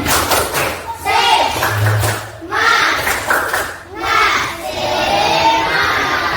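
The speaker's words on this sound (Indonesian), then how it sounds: "Tepuk semangat." Schoolchildren in a classroom perform the tepuk semangat clapping chant, with loud rhythmic bursts of claps and shouted chanting in repeated phrases separated by brief pauses.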